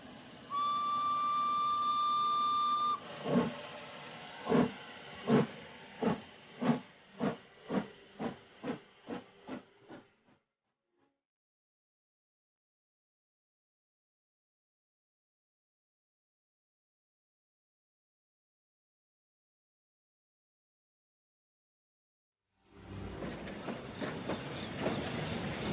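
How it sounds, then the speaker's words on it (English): A steam train sounds a long whistle, then chuffs in a rapid run of rhythmic hissing bursts that slow and stop; silence follows before a steady hiss of steam returns. "Fogg and Passepartout get on the train, but Fix stays in Bombay"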